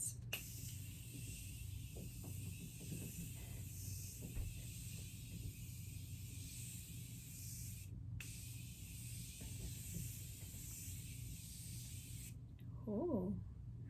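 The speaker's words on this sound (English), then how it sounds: "I'm just gonna spray this all on my face." A Morphe Continuous Mist setting spray hisses steadily onto a face at close range, a long continuous mist with a brief pause near the middle before stopping, followed by a short voiced reaction.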